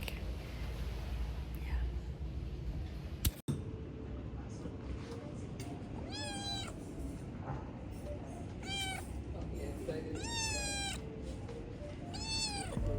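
Cats at an outdoor breakfast spot on the Caribbean island of Bequia give several rising meows at intervals over steady background ambience, with a sharp knock early on and soft voices nearby.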